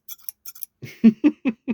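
Old-style rivetless scissor blades snip open and shut several times in a quick, even rhythm, close and crisp, with no talking.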